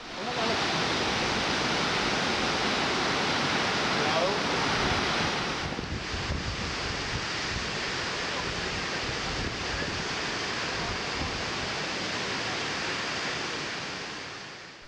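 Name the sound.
Angel Falls waterfall, water falling into canyon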